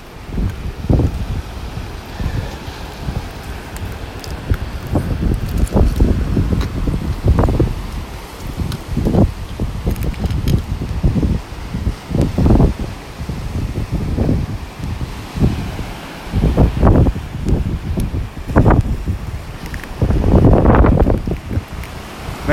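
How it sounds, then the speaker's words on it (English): Strong wind gusting across the beach in North Naples, Florida, heavy buffeting rumbles into the microphone in repeated bursts over a steady roar of surf. "It's not so bad if I turn my back to the wind."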